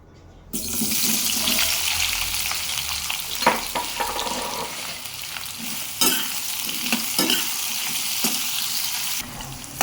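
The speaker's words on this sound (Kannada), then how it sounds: "ಈಗ ನಾನು ಸ್ಟವ್ ಹಚ್ಚಿ ಎಣ್ಣೆ ಕಾದಿದೆ ಈಗ ಈರುಳ್ಳಿಯನ್ನು ಫ್ರೈ ಮಾಡ್ಕೋಬೇಕು" Sliced onions dropped into about 60 ml of hot oil on a stove for onion chutney, giving a steady loud sizzle that starts abruptly and holds throughout, broken by stirring clinks and scrapes.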